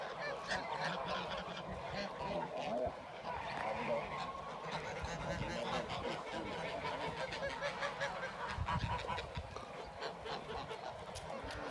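Geese honk repeatedly in a noisy, overlapping chorus close by, with the calls coming in quick irregular bursts throughout.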